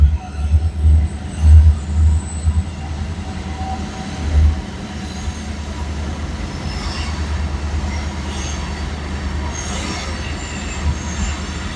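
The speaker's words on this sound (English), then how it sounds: "Let the train pass." A big train rolling past up close, with heavy low rumbling thumps from the wagons early on, then a steady roar of wheels on rail and faint high squeals, with no talking.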